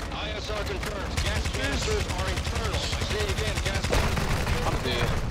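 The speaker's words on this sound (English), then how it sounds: "Oh, they're shooting me in the back." Rapid gunfire from Call of Duty: Modern Warfare III, dense bursts of shots crackling almost continuously at close range, with a player's voice speaking over the action.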